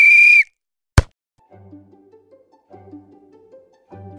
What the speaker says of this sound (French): on attend le coup de sifflet et c'est parti